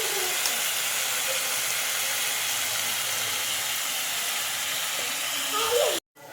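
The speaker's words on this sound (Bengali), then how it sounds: "একটু আলুতে একটু লবণ দিলে আলুটা ভালো একটু ভাজা হবে" Potatoes frying with salt in a pan, a steady broad hiss of sizzling oil running close and continuous before cutting off abruptly near the end.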